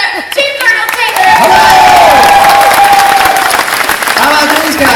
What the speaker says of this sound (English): one more round of applause for Liam, everyone